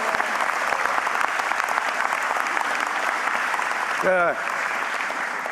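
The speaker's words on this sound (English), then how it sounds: "give all yourselves a round of applause, man." Audience applause at an industry forum, sustained steady clapping from a crowd with a brief voice cutting in near the end.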